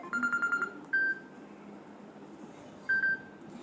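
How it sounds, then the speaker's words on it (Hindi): A Samsung Galaxy F22 phone plays a quiet electronic ringtone: a quick run of bright beeps, then two longer single tones spaced a couple of seconds apart, over faint background hiss. "आपको मैं रिंगटोन जो है प्ले करके दिखा रही हूँ।"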